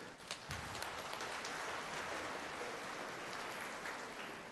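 Loud, sustained clapping from a church congregation during a Mass, a dense wash of many hands filling the space for several seconds at steady volume.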